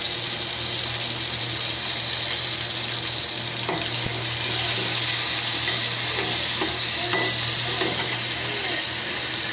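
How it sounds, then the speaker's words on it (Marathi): Chopped tomatoes fry in hot oil on a lowered gas flame in a home kitchen, giving a steady, loud sizzle with faint stirring scrapes and clicks throughout. "टॅमॅटो चांगला तेलामध्ये भाजून घेते."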